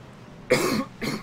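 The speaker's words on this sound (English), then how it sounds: "I do apologize for the cough again" A man on a live racing podcast gives a single harsh cough followed shortly by a shorter throat-clearing burst, close to the microphone and fairly loud.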